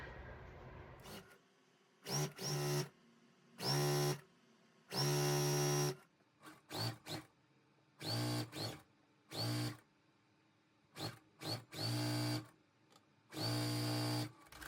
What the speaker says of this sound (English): So I'm going to go ahead and sew.